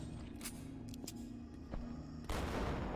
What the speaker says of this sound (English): Okay, so the explosion range is pretty short on that.